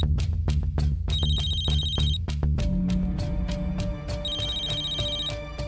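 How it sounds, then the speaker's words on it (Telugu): A phone rings at night inside a home, its electronic ringtone repeating in steady bursts over a low hum, close and fairly loud, with no one speaking. "ఎంత రాత్రిపూట ఫోన్ ఎవరు చేస్తున్నారు?"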